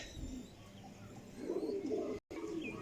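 A Jaunsiri golden female pigeon coos in low, soft rolling phrases close by, with faint chirps and background noise and a brief dropout near the end.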